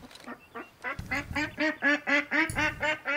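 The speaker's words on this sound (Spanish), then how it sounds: "No, esos son patos." Ducks quacking in the hunting game Way of the Hunter, a rapid series of about ten loud, nasal calls in steady rhythm, close and clear with no talk.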